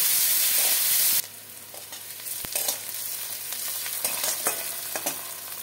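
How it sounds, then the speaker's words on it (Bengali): Onions frying in oil with bay leaf, dried chilli and cumin, an intense hiss that drops after the first second into a softer steady sizzle with scattered pops and stirring scrapes. "পেঁয়াজটাকে লাল লাল করে ভাজতে হবে।"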